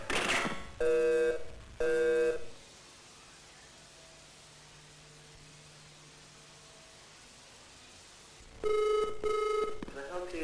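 A telephone rings in two short double bursts, then after a quiet stretch of low hum it rings twice more, clear and fairly close.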